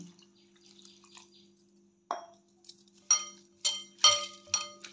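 Water swishes and splashes in short bursts as flattened rice (poha) is rinsed in a bowl, with faint clinks and drips between the washes.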